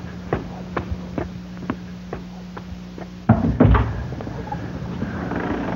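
A tall, old hand-carved Mexican pine front door swings open with a heavy wooden thump and rattle of the latch partway through, after soft regular ticks over a steady low hum.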